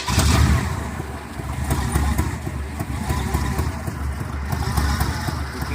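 A 1966 Pontiac LeMans with a 326 engine, 2.5-inch Flowtech headers and Cherry Bomb straight pipes ending behind the rear tire rumbles loudly and closely in a deep, steady idle with slight pulsing throughout.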